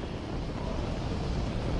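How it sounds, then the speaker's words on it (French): Saturn V rocket engines run at launch as a broad, steady roar and rumble, distant and continuous with no voices over it. "Moteur en marche."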